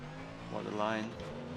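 A race car in a sim racing game upshifts: engine tone climbs in a rising sweep, then drops sharply as the gear changes, fairly quiet overall.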